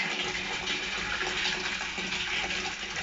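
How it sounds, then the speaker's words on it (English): Steady rushing of water pouring from an outside tap into a pressure washer's water tank, a continuous broadband hiss throughout, fairly close and even in level. "See the water is flooding in there"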